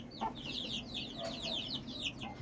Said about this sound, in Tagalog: At ito na po yung mga sisiw natin.